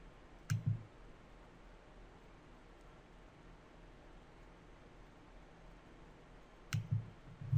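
A computer mouse clicks against a quiet background hiss: a couple of quick clicks near the start, then a long pause, then another small cluster of sharp clicks near the end, close and fairly faint.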